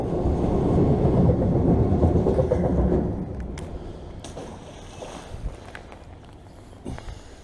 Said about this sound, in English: And that was a train, by the way.